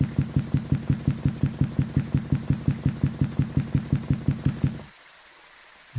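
Thaye ghost in the video game Phasmophobia moving at 150% speed: a fast, steady train of heavy thumping footsteps, around four per second, loud and close, stopping abruptly near the end.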